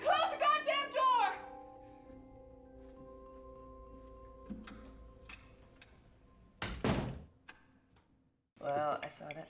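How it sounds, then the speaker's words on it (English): An interior door slams shut, one sharp loud bang after a voice and soft ticking, followed by another voice speaking. "Now close the goddamn door!"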